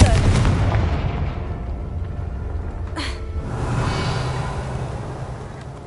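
Confringo fire spell cast in Hogwarts Legacy, a loud booming blast over continuous rumbling battle noise, with a sharp whooshing burst about midway through.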